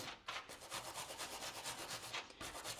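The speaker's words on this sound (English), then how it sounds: "all I'm doing is scrubbing that off" Degreaser is scrubbed off the bottom of a John Deere S100-series lawn tractor starter gear in quick, steady rubbing strokes, close and fairly faint, with no talk.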